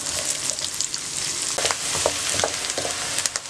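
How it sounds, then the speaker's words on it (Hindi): Onions fry in an oil-filled pan, a dense steady sizzle with occasional scraping stirs and small pops, close and continuous, without any voices. "प्याज को आप हल्का सा पका लें, तकरीबन 3 मिनट तक।"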